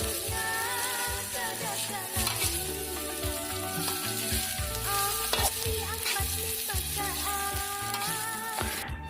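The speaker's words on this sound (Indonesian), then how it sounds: "Terus kita aduk-aduk sampai bumbu meresap." Mie habang, Banjar-style noodles, frying in a pan with spices while being stirred: a steady, close, loud sizzle broken by repeated scraping stir strokes, with no talking.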